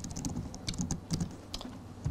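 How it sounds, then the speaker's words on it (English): Typing on a computer keyboard produces a quick, quiet run of close, crisp key clicks in an irregular rhythm. "The easiest way would be to just type it in the console."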